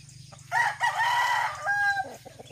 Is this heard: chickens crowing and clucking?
yes